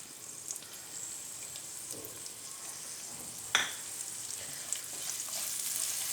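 Chopped onion frying in a pan while a samosa filling is cooked, a steady soft sizzle running throughout with a brief clink partway through, fairly quiet and with no talking.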